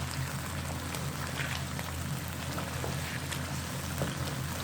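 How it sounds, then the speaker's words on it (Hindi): Masala for Afghani chicken gravy sizzles steadily as it fries in oil in a pan, a continuous soft crackling hiss with tiny pops, heard close and unbroken. "हम थोड़ा सा इसका मसाला और भूनेंगे ताकि थोड़ा ऑयल जो है वो ऊपर आ जाए"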